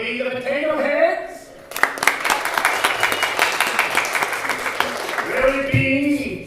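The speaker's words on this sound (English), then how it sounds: "Get your applause on." A radio show's live audience breaks into a burst of dense applause lasting a few seconds, with a host's voice heard before and after it.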